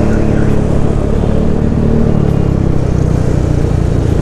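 Racing exhaust on a bored-up Yamaha NMAX scooter, a loud, steady throbbing idle burble close by, with no talking.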